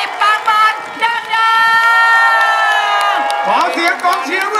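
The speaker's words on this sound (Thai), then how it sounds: "ขอเสียงต้องเชียร์วันอยู่บำรุงดังๆ" Crowd cheering and whooping at a Thai election rally, loud sustained shouts and cheers from many voices, with a cheerleading voice over the crowd.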